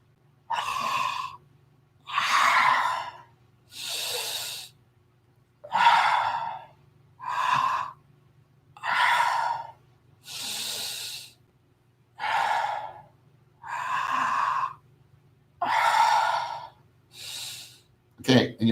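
Slow, deep breaths during seated chi kung, about a dozen long airy inhales and exhales in an even, unhurried rhythm, close and clear, each separated by a short quiet gap.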